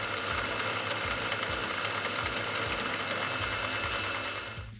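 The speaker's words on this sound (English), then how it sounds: "Facing off brass might be my new favourite thing to do" A lathe faces off brass stock, producing a steady, close mechanical whirring and cutting whine that runs continuously for several seconds before tapering off at the end.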